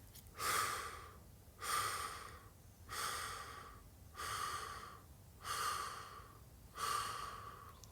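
Breaths pushed out during a relaxation breathing exercise: six evenly spaced, airy, close puffs about a second apart, each rising and fading, with quiet pauses between and no speech.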